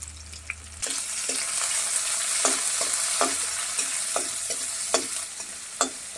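Cumin paste and onions stirred in a frying pan for a stinging catfish curry, a bright loud sizzle that rises suddenly, then continues under rhythmic spatula scrapes and taps, with no speech.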